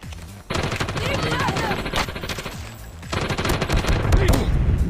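P-90 fire in the mobile shooter Call of Duty Mobile, loud rapid automatic bursts rattling almost continuously, with a brief pause, layered game effects and a voice talking over the gunfire.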